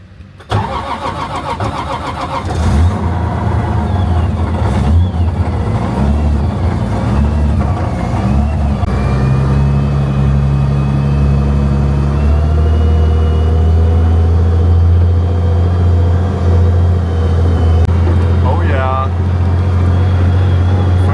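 A drift car's engine cold-starts with a cranking burst, then settles into a loud, close idle that climbs in revs and holds a high, rough drone, with voices briefly heard.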